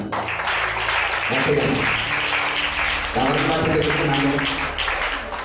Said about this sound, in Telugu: తన దేవుడైన యెహోవాను బట్టి ధైర్యము తెచ్చుకొని గట్టిగా చప్పట్లు కొడదాం